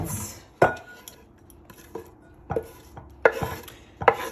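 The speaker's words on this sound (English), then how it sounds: "chopping up our pepper" Peppers chopped on a board for lobster seasoning, with sharp knife knocks landing in irregular bursts, some in quick doubles, close and clear with no talk.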